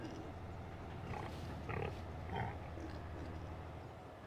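Grunting and oinking from a herd of pigs on a farm in Farming Simulator 25, with a few louder snorts over a steady background hum of the farmyard.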